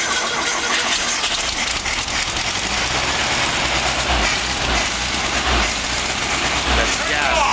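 Volkswagen Karmann Ghia engine running steadily after a cold start, a loud continuous mid-pitched drone close by with occasional low surges, while people talk over it.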